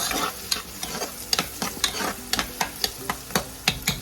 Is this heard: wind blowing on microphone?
no